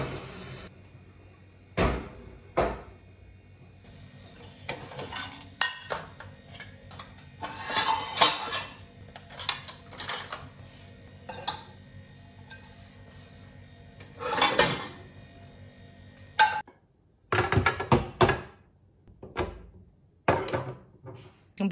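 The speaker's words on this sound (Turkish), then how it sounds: "Bulaşıkları yıkadım." Dishes being washed by hand at a kitchen sink, with irregular clatter of plates, pots and cutlery, bursts of running water and scraping, close and fairly loud with pauses between.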